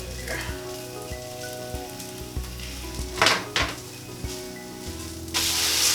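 A vegan pancake fries in a pan with a steady close sizzle and crackle, a few soft taps of a utensil, and the hiss swelling louder toward the end.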